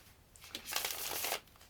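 A deck of tarot cards gets a quick riffle shuffle indoors: one short, soft flurry of flapping cards lasting about a second, close by and alone.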